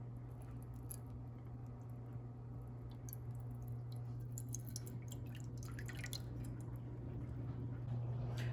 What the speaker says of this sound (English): I'm going to add the black cherry juice